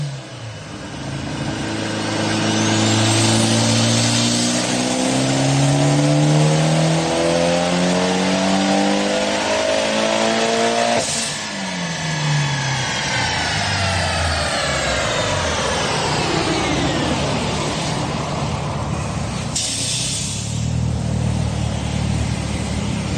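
A Mitsubishi Evo 9 on a dyno roars through a hard pull, its turbo spooling as the revs climb steeply, then drops off and rises again in a second sweeping run, loud and close with no talk.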